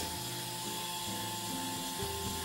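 A Starseeker Edge electric coffee grinder runs at 140 RPM, giving a quiet, steady mechanical whir with a faint high tone and slight shifts in pitch as it grinds, with no voices.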